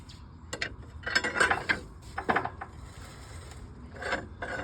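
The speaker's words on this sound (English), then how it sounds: "sometimes you have to rock this whole machine back and forth with the drum and a pry bar like this" Metallic clanks, scrapes and ratcheting knocks from an International TD9 crawler's steering clutch drum being rocked back and forth with a pry bar, irregular bursts up close with quieter pauses between.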